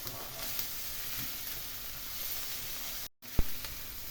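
Onions simmer slowly in beer in a pan, giving a soft, steady sizzle and gentle bubbling at low volume, briefly cut off near the end before a single sharp clack.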